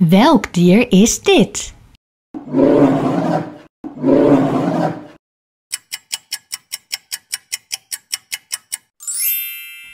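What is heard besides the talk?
polar bear vocalization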